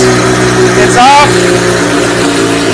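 A 2007 Suzuki GSX-R 750 motorcycle engine runs loud and close, a steady harsh mechanical drone with a brief rev near the middle, with someone speaking over it.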